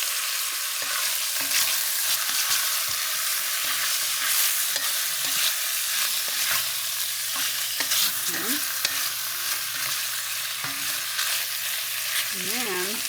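Bacon sizzles steadily in a pot as the base for beef bourguignon, a continuous close frying hiss with occasional stirring scrapes and clinks, with no talking.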